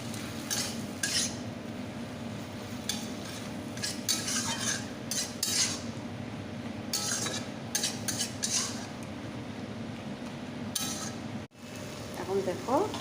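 A cumin-ginger paste is stirred and sautéed in a pan. A utensil scrapes and clinks steadily against the metal over a soft sizzle, with a few louder clatters and a brief pause near the end.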